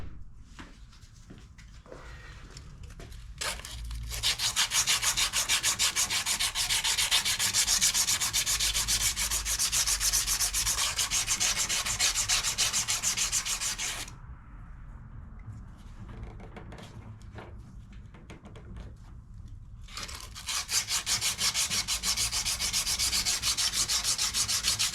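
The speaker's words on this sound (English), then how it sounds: "Get a piece of sandpaper and clean that shaft." Sandpaper rubs a Craftsman 22-inch push mower shaft clean in long, continuous bursts of dry, hissing abrasion. The scrubbing pauses briefly, resumes, then stops again. Close-up, with no talking.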